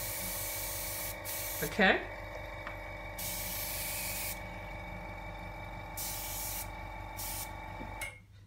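An airbrush sprays Daler-Rowney inks with a steady close hiss, set in repeated bursts against a constant background hum, and a voice speaks briefly.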